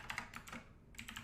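Quick keystrokes on a computer keyboard, a short burst of several close, crisp clicks in uneven rhythm, heard alone.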